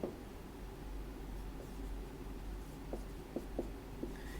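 Chalk or marker strokes on a board while a math problem is written out in a pre-calculus lecture, a handful of short scratchy taps and squeaks close by, with no talking.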